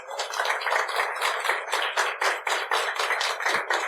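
A church congregation applauds in dense, sustained clapping that fills the full four seconds, many hands at once, steady and fairly loud with slight swells, no talking over it.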